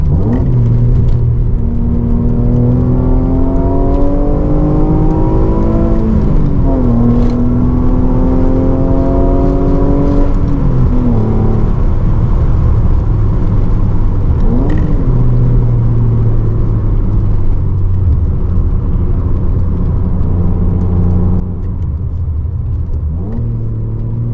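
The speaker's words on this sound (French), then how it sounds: "Je vais rien dire là sur la prochaine accélération que vous puissiez profiter." An Alfa Romeo Spider 916 3.0L 24V V6 engine roars loudly and continuously, pitch climbing through several gear changes with brief dips between shifts, close and uninterrupted.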